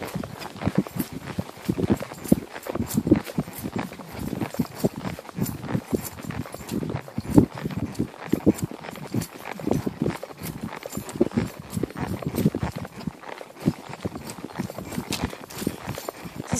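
An older horse running on a trail, its hooves giving a continuous, rapid rhythm of thudding beats close by for the whole stretch, with no talk.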